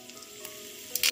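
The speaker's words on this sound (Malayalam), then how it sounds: "നമുക്ക് ഈ സവോളയൊന്ന് വറുത്തെടുക്കാം" Sliced onions fry in coconut oil in a pan for a chicken curry, a soft, steady sizzle that continues evenly and ends with a short, brighter burst as the pan is stirred.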